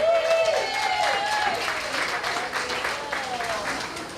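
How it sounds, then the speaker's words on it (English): Wedding guests applaud for Laurel, a broad, steady wash of clapping lasting several seconds, loud and close with a few voices mixed in. "let's give Laurel a big another round of applause"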